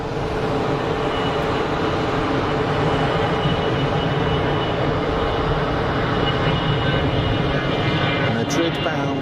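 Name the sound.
Iberia airliner taking off, Madrid bound, Geneva Airport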